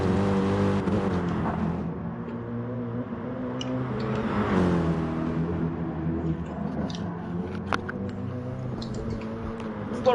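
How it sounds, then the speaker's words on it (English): Lamborghini Huracan race car in a PS4 racing video game, its engine droning with steady harmonic tones that rise and fall through gear changes, with faint clicks and ticks scattered over the hum. "Being chased down by the Lamborghini Hurricane."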